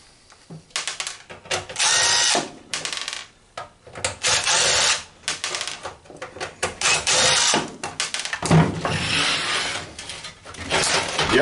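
Screws being driven out of a gaming computer's power supply with a power tool, several loud whirring bursts of a few seconds each separated by short pauses, heard up close with no talking.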